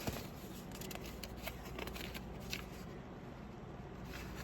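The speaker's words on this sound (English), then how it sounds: "Let me grab a different page to cut" Scissors snipping through a paper page at a tabletop while book journaling, soft and close, a run of small crisp cuts and rustles over a quiet steady room hiss.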